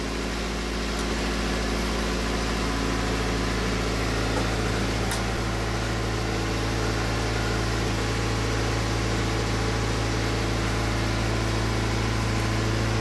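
A Paykan car engine runs steadily at idle after being installed, a constant low hum and vibration with no talking, unchanging throughout.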